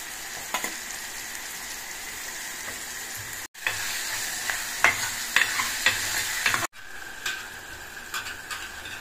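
Ginger garlic paste and turmeric frying in a pan for a drumstick egg curry, a steady sizzle with scraping stirs and small pops, broken by two brief gaps, with no talk.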